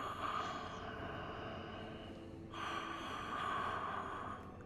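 A horned creature in Elden Ring Shadow of the Erdtree, in the Belurat Tower Settlement area, breathes heavily with a steady snorting, gasping rasp that swells midway through, loud and continuous over a low ambient drone, with no voices.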